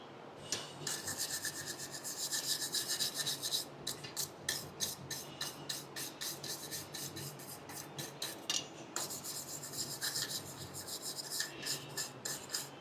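A forged rail spike meat turner being scrubbed down with rapid back-and-forth rasping strokes, close and steady in short bursts with brief pauses, and no voices.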